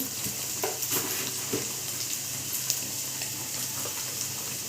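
Sliced carrots frying in oil in a pan for a Telugu-style carrot fry, a steady close sizzle with occasional stirring scrapes and spatters throughout.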